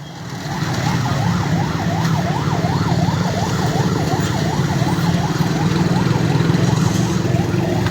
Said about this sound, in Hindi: एक और एम्बुलेंस।